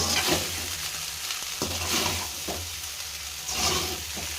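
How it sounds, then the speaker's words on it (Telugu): Veg fried rice being tossed and stirred with salt in a hot pan, a continuous loud sizzle with rhythmic scraping strokes of a spatula every second or so, close up and without any voices. "సాల్ట్ వేసుకొని కలుపుకుందాం. ఇప్పుడు ఒకసారి కలుపుకుందామండి"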